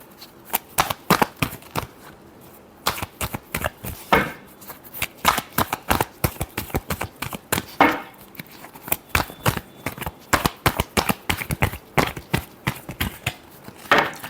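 A deck of tarot cards being shuffled by hand in a fast, uneven stream of crisp flicks and riffles, close and clear, with brief pauses between bursts.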